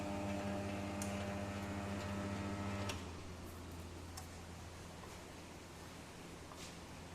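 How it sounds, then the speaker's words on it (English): A table-top mini oil expeller with its screw turning in reverse gives off a quiet, steady motor hum with faint ticks, shifting to a softer, noisier whir partway through. "The screw will rotate in the reverse direction so that all the solid particles inside it will be removed"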